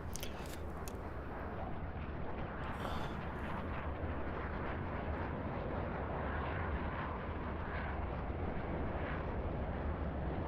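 A steady, loud broadband roar from an F/A-18C jet engine in the DCS World flight simulator, droning continuously without pause and with no talk.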